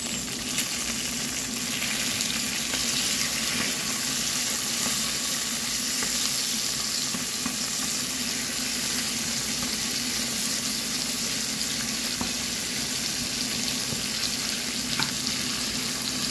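Tomatoes sauté in a pan after onions for a shrimp dish, giving a steady, even sizzle close by with no talking over it.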